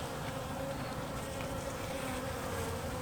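A dense, steady buzzing of many honey bees swarming close by a new hive, continuous and fairly loud with no voices.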